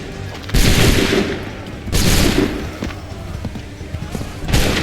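Musket volleys in Assassin's Creed III ring out as three loud, broad blasts about a second and a half apart, each trailing off into a rumbling echo over a busy battlefield din.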